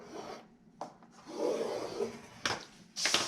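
A paper board for a round box is scored at 2 3/4 inch, giving a few short, close scraping strokes separated by near quiet.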